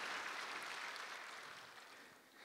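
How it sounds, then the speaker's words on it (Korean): A church congregation at a Sunday morning service gives a sustained round of applause, a dense, even wash of clapping that slowly tapers, heard from a distance and fairly faint. "함께 영광의 박수 올려드리겠습니다"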